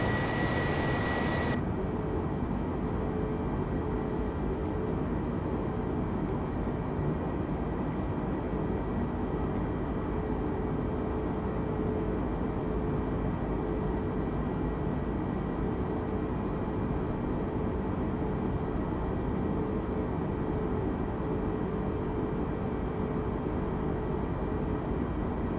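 Airliner engines climbing in Microsoft Flight Simulator 2020: a steady, dense roar that holds unbroken for the whole stretch, with a sharper hiss at the very start that quickly drops away.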